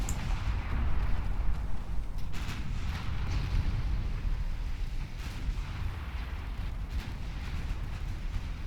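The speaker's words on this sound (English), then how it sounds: "Other heavy cruisers just continue battering it" Heavy cruisers fire naval guns in Ultimate Admiral Dreadnoughts, a deep rumbling barrage of repeated distant booms over a constant low roar of sea and wind.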